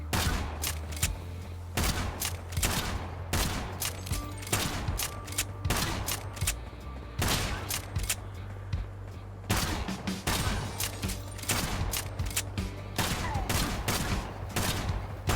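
Gunfire from the video game Kill the Crows: loud, dense bursts of rapid shots in repeated volleys with brief gaps between, sharp and close throughout.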